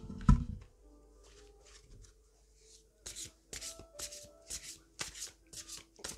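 Tarot and oracle cards shuffled and drawn by hand for a reading, with a soft handling rustle at first and then a close run of crisp riffling bursts and slaps that repeat steadily.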